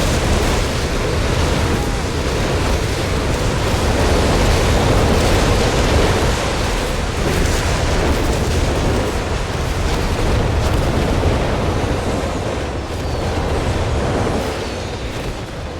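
A rocket battery fires an incendiary barrage in Company of Heroes 3, a dense, continuous roar of explosions and rumbling fire that holds loud and steady throughout with little break.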